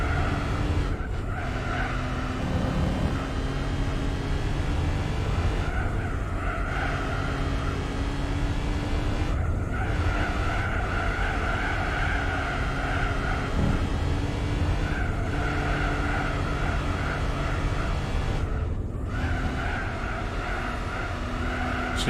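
A road car on racing tyres squeals and skids steadily around a track in Gran Turismo 4, its engine droning loudly and continuously with rising and falling tyre howl throughout, no talk.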